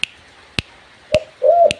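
A spotted dove gives short, low cooing notes close by, one brief call then a longer drawn-out coo, punctuated by sharp clicking snaps.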